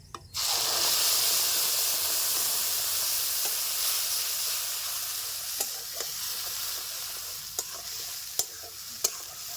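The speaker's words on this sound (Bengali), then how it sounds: "ফোড়নে দিয়ে দিচ্ছি গোটা জিরা। দিয়ে দিচ্ছি পেঁয়াজ বাটা।" Whole cumin seeds and onion paste drop into hot oil for a Bengali fish curry, a sudden loud sizzle that settles into a steady hiss, with occasional sharp pops and ticks.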